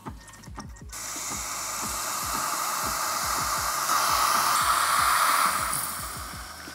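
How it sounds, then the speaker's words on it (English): A Breville Barista Express steam wand hisses steadily after a brief quieter start, swelling slightly in the middle and easing toward the end, over a rapid ticking pump rhythm underneath. "It's the sound of steam."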